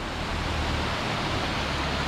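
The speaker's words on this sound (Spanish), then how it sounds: "mirad qué guapo, el río Dobra." The Dobra river in Asturias rushing past nearby, a broad steady roar of flowing water with no breaks, loud and continuous throughout.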